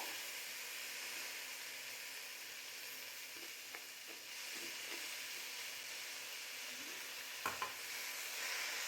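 Fenugreek greens being stirred into an avarekai sambar in a pan, a steady soft sizzle and hiss with faint scraping of the spoon and a couple of brief clinks near the end.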